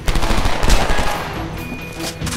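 Rapid automatic gunfire in the video game Homefront rattles in dense, loud bursts across the whole stretch, sustained and close, with no talk over it.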